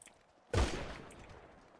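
A single loud, close gunshot burst from a shooting video game, sharp onset followed by a rumbling decay lasting over a second, after a brief quiet lead-in.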